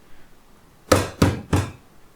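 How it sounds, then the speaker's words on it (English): Three crisp knocks on wood, close and distinct, spaced about a third of a second apart, against near silence. "That was knocking on wood."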